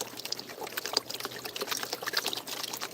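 Water sloshing and pouring from a gold pan worked in a Georgia creek, with close, uneven splashes and trickles that keep going throughout.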